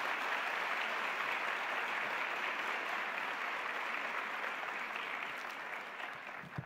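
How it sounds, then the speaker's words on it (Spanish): A forum audience gives a speaker a strong round of applause as she is welcomed to the stage, a thick, continuous wash of clapping that holds steady and then thins slightly near the end. "Recibámosla con un fuerte aplauso a Inés."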